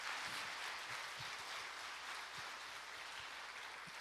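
A church congregation at a Sunday worship service claps faintly and distantly, a soft, even patter of many hands with a few sharper claps standing out.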